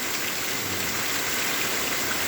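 Heavy rain pours down steadily on a village in Tamil Nadu farmland, a dense, continuous hiss of falling water with no breaks and no voices.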